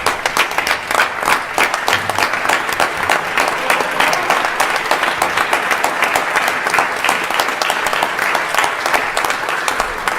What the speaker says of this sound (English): Can we please rise and give him one round of applause